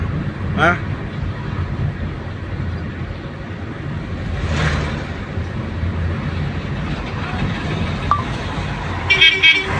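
Mining lorries rumble past on a road, with loud honks near the start and a sharp burst of horn toots at the end over continuous heavy traffic noise, voices faintly present.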